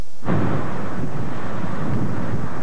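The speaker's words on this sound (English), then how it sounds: "it's about the wind conditions and the bitter cold, something you can feel and hear when you're out there as well" A strong winter wind gusts through a snowstorm on a Scranton street during the February 2007 Valentine's Day storm, striking the microphone as a loud, sustained roaring buffet that starts abruptly and keeps blustering throughout.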